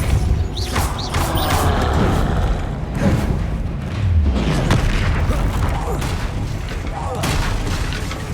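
Spell impacts in Hogwarts Legacy combat against a troll: a dense, continuous mix of mechanical whooshes, booms and crashes with a low thud near the middle, loud throughout.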